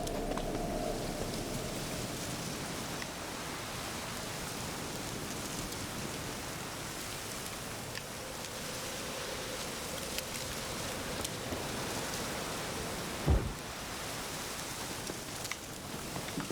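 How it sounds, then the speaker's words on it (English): Rain falls in The Witcher 3: Wild Hunt, a steady wash of soft hissing drizzle that holds evenly throughout, with a brief thump partway through. "Looks like rain."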